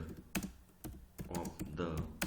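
Soft keystrokes on a computer keyboard during data entry in SPSS, a few quiet irregular taps close by with someone talking over them.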